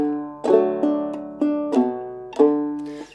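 A clawhammer banjo strummed across a full open chord, five or six bright ringing strums at an unhurried, slightly uneven pace, each one sustaining and fading before the next, close and clear with no voice.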